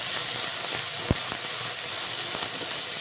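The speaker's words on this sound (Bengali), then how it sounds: "মশলা খুব ভালো করে কষিয়ে নেব" A spice paste of cumin, coriander, tomato, onion and chili frying in a pan, a steady close sizzle with a few sharp clicks and taps of a utensil, no talking.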